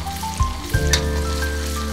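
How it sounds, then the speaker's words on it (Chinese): Ginger, garlic, Sichuan pepper, dried chili and shallots hit hot crab-frying oil in a stew pot, giving a loud sudden sizzle that settles into steady crackling frying. "下姜、蒜、花椒、干辣椒、干葱头爆香"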